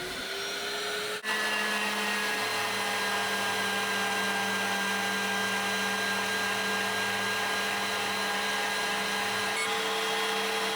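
A CNC machine runs a contour cut on drone arms, giving a steady, close, whining spindle hum with a constant drone and faint tonal lines throughout, with no talking.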